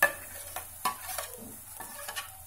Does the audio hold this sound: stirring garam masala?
yes